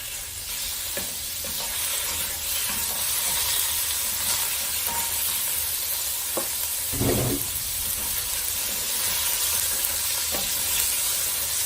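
Chicken frying over low heat in a pan gives a steady close sizzle and hiss, broken by a few soft clinks and scrapes of stirring.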